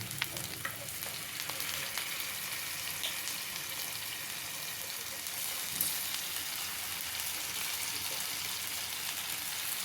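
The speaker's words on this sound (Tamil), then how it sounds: "கருவேப்பிலை போட்டுருங்க. கருவேப்பிலை பொரிஞ்ச உடனே நம்ம மீனெல்லாம் அதில் செட் பண்ணிடலாம்." Curry leaves splutter and sizzle steadily in hot oil in a pan, a bright, even crackle with scattered pops that runs the whole time without talk.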